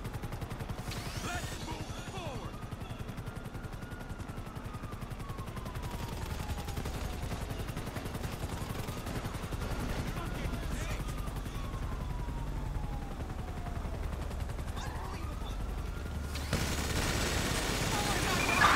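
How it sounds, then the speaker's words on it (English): A minigun firing in one long, continuous burst of rapid shots, a dense rattling roar lasting many seconds with a rising and falling mechanical whine over it, growing louder toward the end. "Minigun, bitch."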